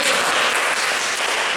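A youth service audience plays a clapping game, producing a loud, dense burst of many hands clapping at once that fills the short moment without talk.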